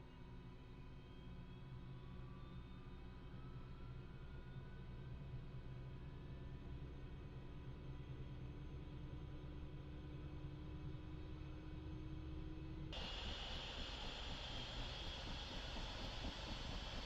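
A Bell 222B helicopter engine starting up in Microsoft Flight Simulator, a steady rumbling turbine drone with rising whine that steps up abruptly to a louder, brighter roar near the end, with no talking.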